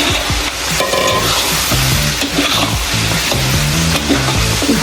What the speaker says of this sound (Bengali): এখন এর মধ্যে আমি আমাদের ম্যারিনেট করে রাখা মাংসটা দিয়ে দিব।